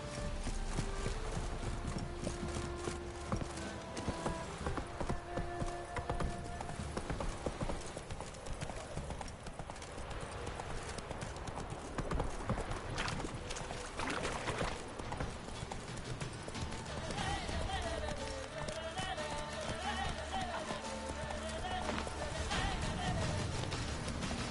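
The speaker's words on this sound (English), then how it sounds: "Whoa there, Roach." Steady clip-clop of a horse's hooves in The Witcher 3 game, continuous rhythmic trotting with game music and voices over it.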